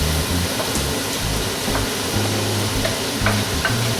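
Steady hiss and crackle of vegetables sizzling with browned onions in a hot pan for curry, continuous throughout with a low hum underneath and occasional faint pops.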